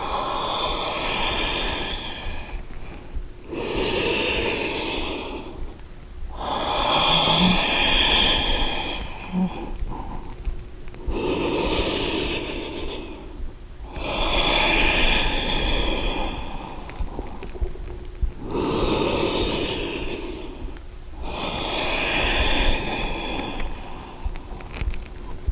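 Slow, deep yoga breaths, long airy inhales and exhales repeating in an even rhythm of about five seconds each, close and clear with nothing else audible.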